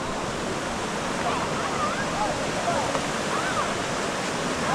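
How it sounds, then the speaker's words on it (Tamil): Fairly large waterfall at a hidden spot near Tiruvannamalai, heard as a steady, loud, broadband roar of falling water that fills the whole clip without pause. "ஓரளவுக்கு பெருசாக தாங்க இருக்குது ஃபால்ஸு, ரொம்ப சின்னதுலாம் இல்லை"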